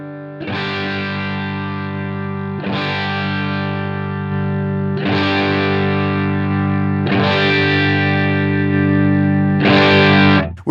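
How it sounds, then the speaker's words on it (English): Electric guitar through a Line 6 Helix amp preset with overdrive distortion at lower volume: five distorted chords, each struck and left ringing for about two seconds, with no talking. "We're just hearing that same tone with the same amount of overdrive distortion, just at a lower volume"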